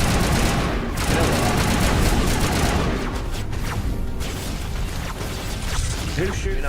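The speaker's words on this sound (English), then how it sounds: "Who's shooting at me from behind?" Rapid gunfire and explosions crackle continuously in Mass Effect, a dense loud barrage with mechanical clanks that thins slightly toward the end.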